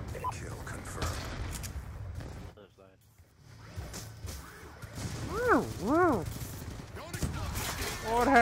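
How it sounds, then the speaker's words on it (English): In Black Ops 2, an R870 MCS shotgun fires a few loud, heavy blasts in a busy multiplayer match, mixed with other gunfire, explosions and game sounds, while someone talks over the action. "You wanna play with shotgun? Let's play with the shotgun."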